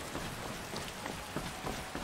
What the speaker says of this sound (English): We're done being in the rain.